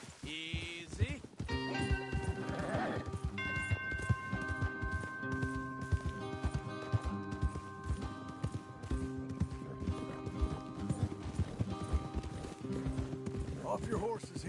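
Horses in a Western video game, hooves clip-clopping along under a swelling orchestral score, with a brief whinny and game characters talking over the music.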